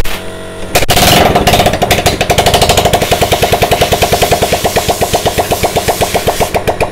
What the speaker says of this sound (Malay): Kita tak payah pakai exhaust Kita dengar macam mana motor ni.